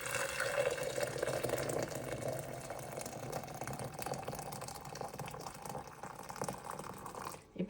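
Hot water poured into rice flour for idiyappam, a continuous soft splashing pour that runs for several seconds at low level, with no speech.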